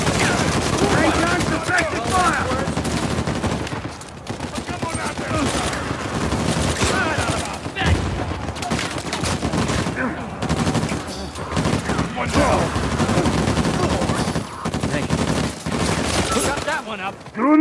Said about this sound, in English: Ray guns, deflected fire!